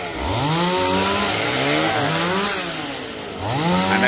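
A chainsaw cuts tree branches in a garden, running loud and close. Its engine pitch rises and falls under load through the cut, dips briefly, then revs up again.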